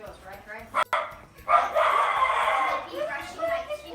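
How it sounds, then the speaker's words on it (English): Dog named Kobe barking indoors in a home kitchen, a couple of sharp barks followed by a longer whining bark, mixed with people talking nearby. "Seriously, Kobe, you just barked for the sake of barking."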